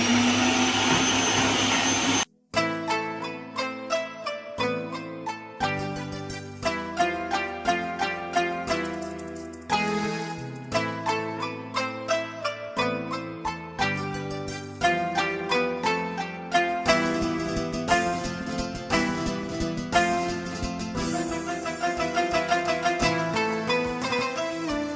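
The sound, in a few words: food processor blending kibbeh mixture with onion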